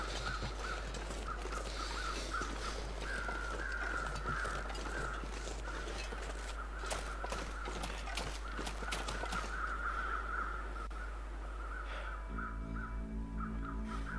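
Crows caw repeatedly throughout in The Long Dark, a survival video game, scattered harsh calls over a steady low wind-like ambience, some nearer and louder, others distant, with no talking.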